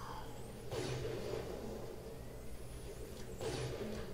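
Car engine in GTA 5 Online's Rivalry game mode, a steady mid-level drone with two louder whooshing surges as vehicles pass close by, no talk over it.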